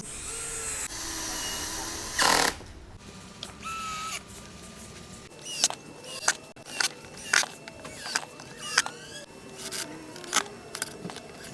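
A power drill drives bolts into a wooden speaker cabinet, a series of short whirring bursts in a regular rhythm after some earlier clatter, fairly faint and close with no talk.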